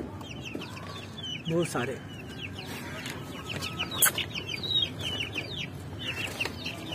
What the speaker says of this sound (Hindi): यहाँ पर चूजे हैं